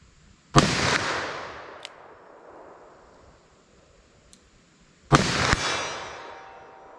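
Two loud handgun shots, a 10mm and a .44 Magnum, fired outdoors several seconds apart, each a sharp crack followed by a long echoing decay across open ground.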